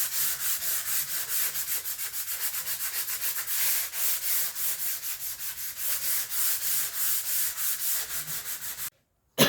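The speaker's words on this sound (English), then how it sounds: "I'm going to use a 240 grit sanding pad to smooth everything out" A 240 grit sanding pad rubbing back and forth over primed wood on a box, a fast, even rhythm of close, loud scratchy strokes that stops abruptly near the end.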